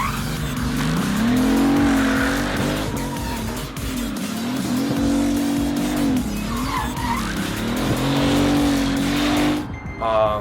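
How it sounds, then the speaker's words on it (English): A Bugatti Veyron converted to two-wheel drive spins donuts, its tires squealing loudly and continuously in long wavering shrieks over a roaring engine. "I did a two-wheel drive conversion on my Veyron to do bigger donuts myself."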